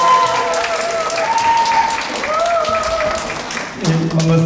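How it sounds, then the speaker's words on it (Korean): Steady applause from a lecture audience welcoming a speaker fills the whole stretch, dense and continuous, with some background voices and tones mixed in. "큰 박수 부탁드리겠습니다."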